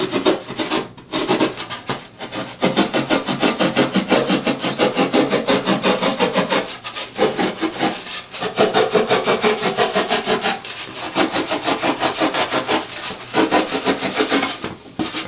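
A plastic shell goose decoy being trimmed to make a floating decoy, heard as close, loud, steady rasping strokes in quick rhythm that run almost continuously, broken by a few short pauses, with no voices.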